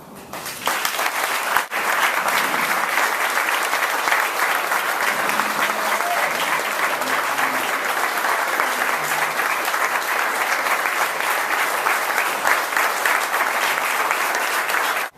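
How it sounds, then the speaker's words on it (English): Sustained audience applause at a retirement party, a dense and loud clapping crowd that starts abruptly and holds steady for about fifteen seconds before cutting off, with faint voices mixed in. "join me in a great big round of applause"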